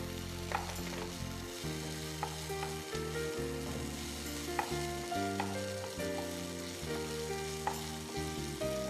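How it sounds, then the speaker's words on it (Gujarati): Tomatoes are sautéed over high heat with carom seeds, making a steady frying sizzle with light stirring clicks, heard faintly beneath continuous background music with no talk. "ટામેટોને આપણે બરાબર સાતડી લઈશું અને ફાસ્ટ તાપ પર ફાસ્ટ તાપ જ કરવાના છે"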